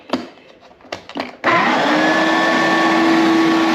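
A loud shop vacuum starts abruptly after a few faint knocks and then roars steadily, sucking out a mouse nest from the glove box of a 2002 Ford Crown Victoria police car.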